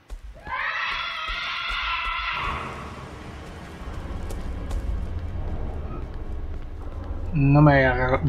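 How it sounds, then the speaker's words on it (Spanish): A shrill, wavering scream rings out for about two seconds in the Cry of Fear horror video game, followed by low rumbling ambience and a voice near the end. "No me ha agradado ese grito, ¿eh?"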